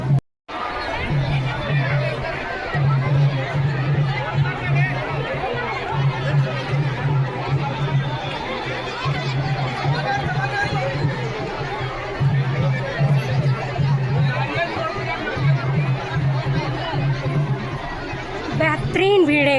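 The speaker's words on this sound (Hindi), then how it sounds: "बेहतरीन भीड़ है गाइस, यहाँ पे आप मन देख सकते हो बहुत ज़्यादा भीड़" A large crowd chatters densely at a Hindu kalash yatra procession, a steady loud babble of many voices with no pause, continuing for the whole stretch.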